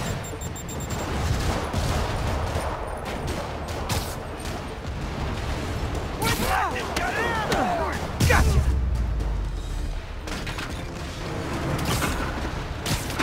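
Rockets and explosions boom in the Marvel's Spider-Man Remastered video game on PC, with dense, noisy bursts of blasts and crashes across the whole stretch and a heavier boom near the middle.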